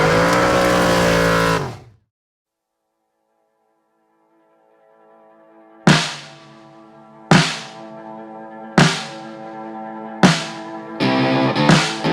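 A 2001 Chevy Silverado engine runs loudly up close for under two seconds and then cuts off, leaving silence before a series of ringing, decaying musical notes.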